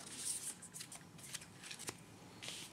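Oracle cards shuffled by hand for a full moon card reading, a soft papery riffling and rustling that comes in several close bursts with brief pauses and no talk.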